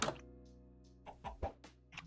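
A chicken clucks in Minecraft StoneBlock, a few short clucks in a row, close and clear over a quiet steady background tone.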